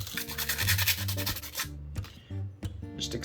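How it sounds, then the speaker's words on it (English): Copper piece rubbed with sandpaper in quick, rhythmic scraping strokes, close and fairly quiet, with a steady tonal hum running underneath. "for the copper, I'm just gonna sand it."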